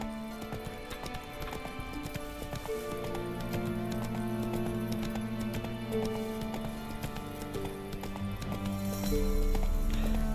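Roach, the horse from The Witcher 3, gallops in a steady clip-clop of hooves over a bed of game music, with a brief whinny-like swell near the end.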